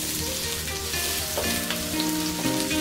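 Garlic sautés in a pan for a coconut-milk katang dish with squash and string beans, giving a steady close sizzle and crackle, with faint stirring scrapes heard alone.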